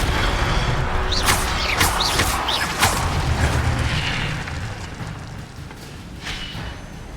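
An Incendio fire spell cast in Hogwarts Legacy comes through as whooshing magical bursts with quick rising chirps and dull booms, loud at first and then fading into a softer rumble.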